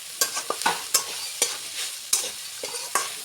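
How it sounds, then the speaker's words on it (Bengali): Kalmi greens fry in a pan while a spatula stirs them, giving crisp scraping strokes at a fairly regular rhythm over a continuous sizzle. Close and clear, with no talk. "একটু নাড়তে হবে আবারও"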